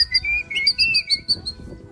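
A Eurasian blackcap sings nearby outdoors, a run of clear, warbling whistled phrases with quick high notes, over a low rumble of background noise.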